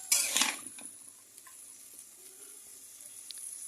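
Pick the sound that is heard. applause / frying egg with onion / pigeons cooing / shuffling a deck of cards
frying egg with onion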